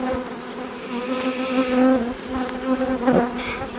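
Honeybees drone loudly and close at an open beehive in an apiary, a dense buzzing hum that swells and wavers as individual bees pass near, with no talk.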